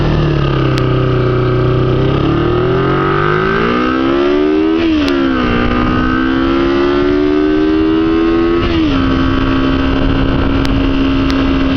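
A Kawasaki Ninja 250cc motorcycle engine while riding, a loud steady whine that rises and drops through gear shifts, heard close over constant wind rush.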